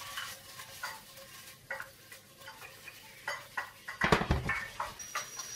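Beef for a curry frying in a pan, stirred with repeated scraping strokes over a soft sizzle, growing louder and busier toward the end.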